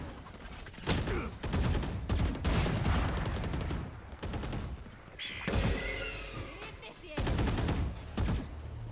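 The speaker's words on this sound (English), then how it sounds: "Two players just shooting through the smoke, and then the reload." Bursts of rapid gunfire in Valorant as two players shoot through smoke in a 5v5 post-plant round, loud repeated volleys separated by brief gaps, with a reload and shouting commentators talking over the action.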